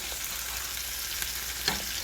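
Steaks searing in a pan on low heat, a steady soft sizzle with a brief louder crackle near the end, with no talking.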